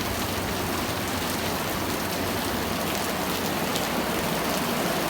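Heavy rain pouring steadily, a loud dense hiss of drops striking surfaces all around, constant and unbroken throughout with no voices.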